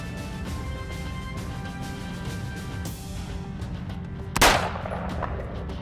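A single sharp pistol shot rings out near the end, fired at targets on a shooting course, over a steady droning background.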